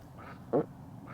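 A single short duck quack, fairly close, rises over quiet outdoor ambience beside a fishing lake during a match-fishing contest.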